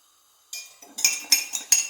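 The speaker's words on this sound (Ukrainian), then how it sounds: "Все перемішала, щоб не було крупинок." A metal spoon clinks rhythmically against a cup or bowl several times, close up, as cocoa powder and sugar are stirred into milk in a quiet room.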